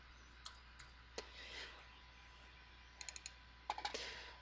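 Quiet clicks of a computer keyboard while typing a short word during spreadsheet and CAD work, scattered keystrokes with a small burst of quick taps near the end, close and faint.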